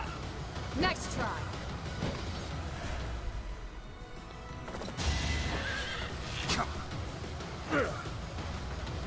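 A horse in the video game Fire Emblem: Three Houses neighs and whinnies several times in sharp bursts over clip-clopping hooves and a busy game soundscape, with occasional breathy vocal sounds.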